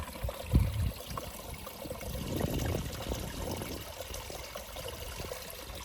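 A small stream at a water source right beside the Appalachian Trail flows in a steady, close trickle and gurgle, with a brief louder splash near the start.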